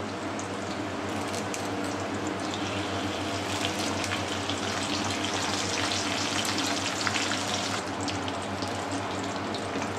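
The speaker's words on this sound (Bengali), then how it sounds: "এতে আমি দিচ্ছি 2 গুছি কারি পাতা ফোড়ন" Two sprigs of curry leaves spatter in hot oil while tempering lemon rice, a loud, continuous crackling hiss that swells busier after a couple of seconds and stays close throughout.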